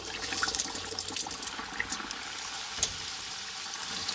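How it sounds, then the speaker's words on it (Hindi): Samosas go into hot oil in a kadhai and fry with a fairly quiet, continuous bubbling sizzle and small crackles, steady throughout with no voices. "अब हम लोग कढ़ाई में समोसा डाल देंगे"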